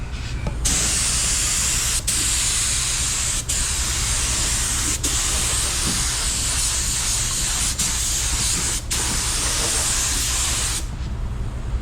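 A budget paint spray gun laying down a coat of paint, a loud steady hiss of atomized spray broken by a few brief pauses, close and unbroken by talk.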